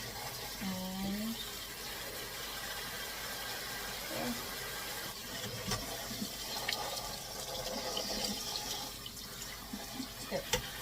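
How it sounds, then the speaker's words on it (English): Rice is rinsed and gently tossed in water at a kitchen sink, with continuous running and splashing water and soft grain-and-water swishes throughout. "now I'm just rinsing the rice, and I'm softly tossing the rice just to get all of the starch off."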